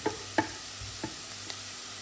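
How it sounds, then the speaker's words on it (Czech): Onion sautés in a pan beside beef tongue being browned, a low sizzle broken by a few sharp spatula knocks and scrapes against the pan. "tam teprve přidám tu cibuli a ještě budu pokračovat v tom restování"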